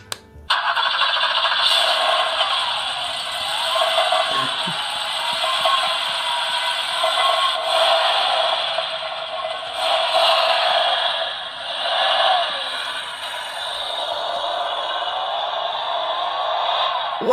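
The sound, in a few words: battery-powered toy car running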